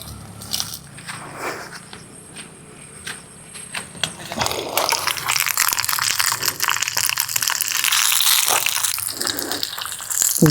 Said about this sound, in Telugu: నూనెలో బుసలు కొట్టేటప్పుడే చేపను దానిపైకి ఎక్కించేయాలి